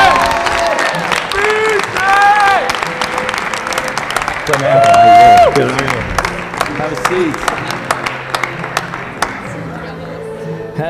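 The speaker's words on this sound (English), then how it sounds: "BJ Raymond, keep clapping" A studio audience claps and cheers steadily through a season finale show as a basketball team member is welcomed, the dense clapping running loud throughout beneath a host's voice and a sustained musical tone.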